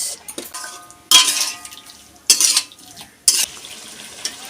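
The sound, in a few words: stirring sweetener into a cooking pot with a spoon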